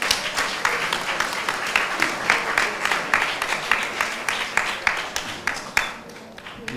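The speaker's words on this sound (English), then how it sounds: "Let's give him a good round of applause." A church congregation at a Sunday morning service claps in a steady, dense round of applause that fills the room at an even, moderate level, with individual claps crackling through the mix.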